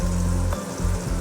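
Squid pieces sizzling as they are added to a hot pan for a spicy squid gravy, a loud, steady frying hiss with a low rumbling hum that briefly dips and then resumes.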